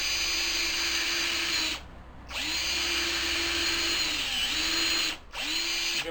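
A power drill drives a couple of screws into a wooden cleat at the back of a tapering jig. It whines steadily and loudly in bursts, with a short pause between the first two screws and a brief stop near the end.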